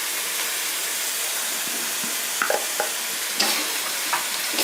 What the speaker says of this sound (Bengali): এখন আমি সবজিগুলো সুন্দর করে কষিয়ে নেব।